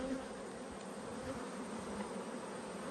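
A continuous close drone of honey bees hovers over an opened hive while frames of brood, pollen and honey are inspected, the buzzing even and unbroken with no voices.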